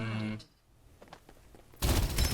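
Gunfire in Farlight 84 opens and closes with dense, loud bursts of rapid shots, with a short lull of scattered quieter pops between them.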